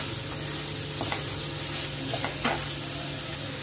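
Wheat flour pasta stirred in a hot pan, with a steady sizzle and frying hiss and a few soft scraping stirs of the spoon, close and alone.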